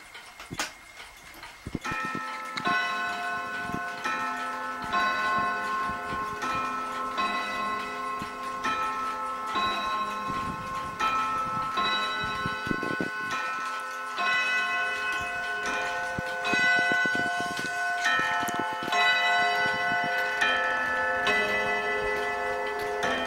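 A Sessions banjo wall clock, its eagle finial slightly loose, ticks steadily and rings a sustained chime of bright, layered metallic tones that carries on with a clear ring for most of the span, with no voices.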